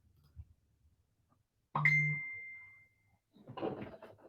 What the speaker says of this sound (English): My phone is dinging.